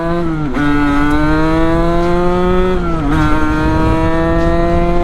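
A Sherco Supermoto 50 with a big bore kit on its AM6 engine, ridden in fifth gear: a loud, close, sustained two-stroke drone whose pitch dips briefly twice and then climbs again.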